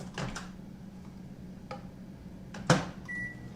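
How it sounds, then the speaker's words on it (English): A microwave oven runs with a low steady hum while heating Minute brand brown rice, broken by a few faint clicks and ending in a short electronic beep. "you literally stick it in the microwave for 1 minute"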